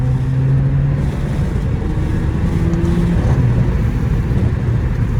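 A Mercedes CLA 45 engine rumbles loud and close with a deep, throaty exhaust drone while driving, steady with slight shifts in pitch and some wind buffeting.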